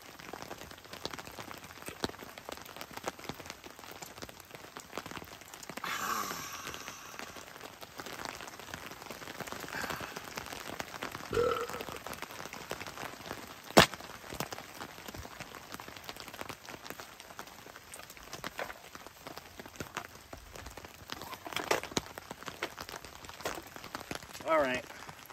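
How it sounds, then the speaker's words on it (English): Rain falling on a tent and tarp at a solo hilltop campsite beside a lake, a soft irregular patter with scattered louder crinkles and taps, fairly faint throughout. "I'm camping in the rain."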